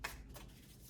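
Tarot cards shuffled by hand, a brief crisp riffle near the start followed by soft continuous card rustling, close and quiet.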